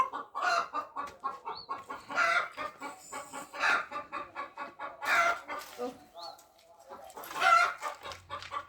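A hen cackles after laying an egg in loud, repeated bursts of clucking, close by, with short pauses between each squawking outburst.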